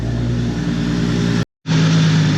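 A car engine with a new turbo and exhaust manifold idles with a deep, droning exhaust rumble, cutting out briefly before resuming at the same steady pitch.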